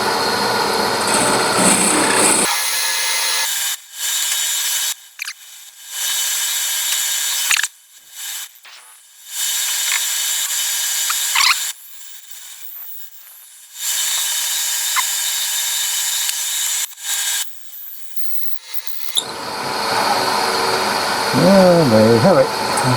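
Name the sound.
drilling pen blanks with a drill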